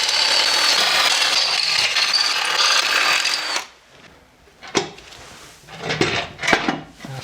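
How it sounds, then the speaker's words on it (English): A loud, steady mechanical whir of an 11mm drill boring holes in a Series A Land Rover part for a few seconds, then it stops, followed by scattered metallic clinks and knocks. "if I go through with an 11mm drill all the way round"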